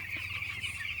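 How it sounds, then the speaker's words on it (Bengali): Ten-day-old chicks on a chicken farm, a dense chorus of high-pitched peeping and cheeping from many birds close by, continuous over the brief moment. "আজকে 10 দিনের পাখি খুবই সুন্দর আছে বন্ধু"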